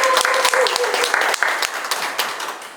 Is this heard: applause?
yes